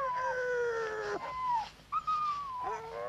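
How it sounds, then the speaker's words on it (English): Dogs howl in long rising and falling wails, several overlapping voices close at hand in a 1969 television drama, with no talk over them. "What's the matter with the dogs?"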